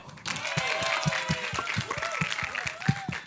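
Applause from the audience at the Cirkus trailer launch, clapping rising from a quiet start and holding steady, with a voice speaking over it and some regular low thumps beneath.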